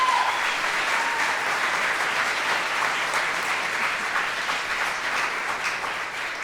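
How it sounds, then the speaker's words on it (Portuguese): An audience applauds musicians at a live show, dense sustained clapping from a large crowd that fades slightly toward the end, with no one speaking over it. "dar uma salva de palmas para Valerinho Xavier"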